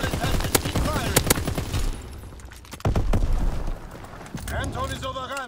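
Rapid bursts of gunfire and booming explosions from a World War II-style war video game battle, dense and loud throughout, with shouted voices mixed in over the shooting.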